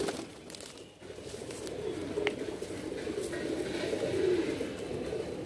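Madrasi pigeons coo softly and steadily in a low, rolling murmur throughout, with faint background rustle and no talk over them.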